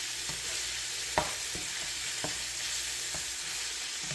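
Quesadilla filling fries in a hot pan with a steady, close sizzle, while a spatula stirs and scrapes it in several light taps throughout.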